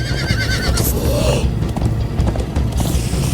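A horse whinnies loudly in the Minecraft: Story Mode video game, then hooves gallop in a steady, driving clip-clop under a rumbling game score, continuing to the end.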